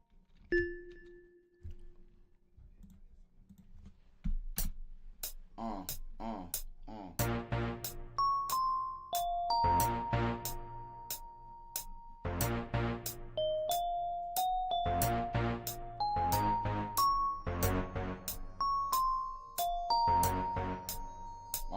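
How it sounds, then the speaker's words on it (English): A phone alarm plays a bright chiming electronic melody, starting with a lone tone and then repeating a rhythmic ding-dong pattern of bell-like notes with steady clicks, clear and fairly close. "phone's going off."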